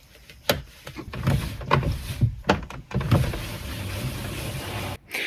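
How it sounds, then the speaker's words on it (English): A replacement door handle on a Ford Fiesta Mk3 being pushed and snapped into the door, giving a few close plastic clicks and knocks among handling rustles, no talk. "hopefully you can push it and snap it into place"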